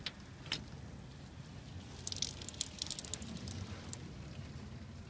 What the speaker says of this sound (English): So suck up some and then blow it out.